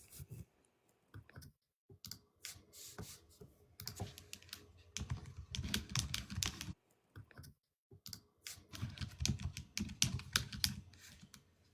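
Fast, forceful typing on a computer keyboard comes in rapid bursts of clattering key clicks, separated by short pauses, close and fairly quiet.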